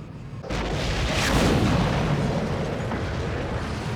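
A sudden loud blast as airships are destroyed in an anime battle, followed by a long rumbling roar of debris and fire that stays heavy and sustained for several seconds.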